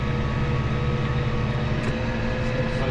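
Steady, loud tractor engine running on a farm during mowing work, a continuous droning hum with no clear rise in revs, heard alone without talk.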